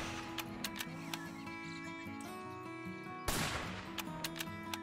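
A single loud gunshot rings out at an alligator in a Bass Pro Shops hunting video game, a sharp crack midway through, set against continuous game music and a few small chirpy clicks.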